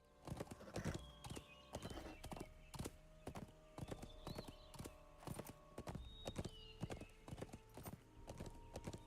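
War steed galloping in LOTRO, a steady run of rapid, evenly spaced hoofbeats at close range, with brief whinnies over a quiet in-game background.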